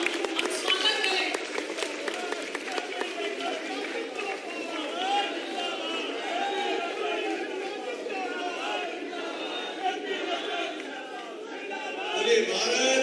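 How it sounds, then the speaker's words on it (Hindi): A crowd at a political rally in Jaipur, Rajasthan applauds to welcome the national president, steady clapping and chatter sustained throughout, with speech over the top and a loudspeaker voice. "तालियों की गड़गड़ाहट के साथ में राष्ट्रीय अध्यक्ष जी का हम स्वागत करें।"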